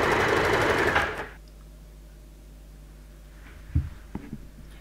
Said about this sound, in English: I'm going to zigzag my way all the way down.